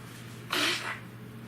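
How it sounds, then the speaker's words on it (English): A single short nasal blow by a man, a broadband burst lasting about half a second, close and fairly loud over a steady low hum. "Blow my nose."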